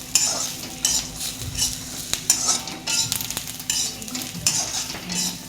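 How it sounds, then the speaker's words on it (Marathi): Coriander seeds roast in a pan for a spicy bitter gourd curry, with repeated close scraping strokes of a spatula over a light sizzle, no voices. "ह्यात घातले आपण थोडेसे धने, त्यालाही भाजून घेऊ आपण असं चांगलं मस्त"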